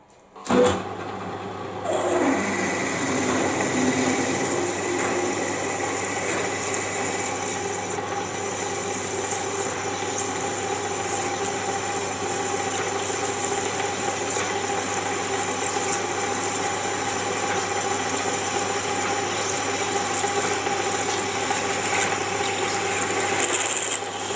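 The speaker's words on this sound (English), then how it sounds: "we'll drill the largest size thread and go straight in with one tap" A machine drills steadily into hardened steel, a continuous whirring grind with a high ringing tone that holds for the whole stretch.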